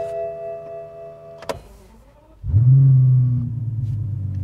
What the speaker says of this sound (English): this will be the very last time then we start the car up